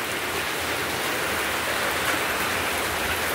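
Steady rain falling, a dense even hiss of drops pattering on surfaces, close and continuous with no voices.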